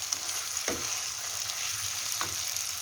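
A spoon stirs semolina halwa frying in a pan, with a constant sizzle and two distinct scraping strokes against the pan.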